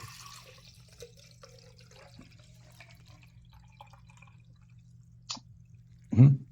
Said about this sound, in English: if we pour it in this glass container here